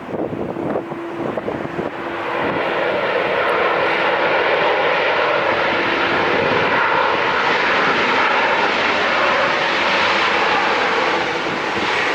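A Southwest Airlines jet at LAX roars loudly and steadily as its engines spool up for departure, a broad continuous rush with some wind buffeting and no voices.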